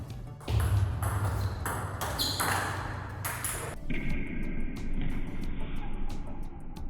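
A table tennis ball struck with a forehand drive, a sharp ping standing out over steady loud background noise, followed by several short light taps.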